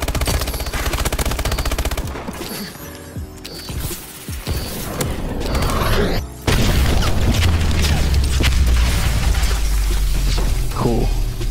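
Explosions and rapid gunfire from a DNA bomb killstreak in a Call of Duty match, loud and dense throughout, with a heavy boom midway followed by sustained low rumbling and continued shots.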